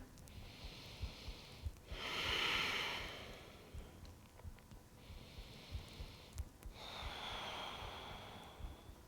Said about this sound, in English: and breathe deep